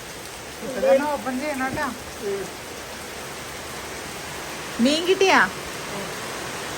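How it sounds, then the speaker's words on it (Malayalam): Heavy rain falls as a steady broadband hiss throughout, while people hold a short conversation over it in two brief exchanges. "നല്ല മഴ."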